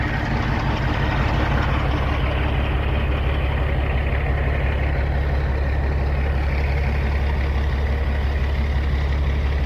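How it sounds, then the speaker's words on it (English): A small truck's engine idles in a steady, low rumbling drone, close and continuous, with no talking. "Interesting little truck."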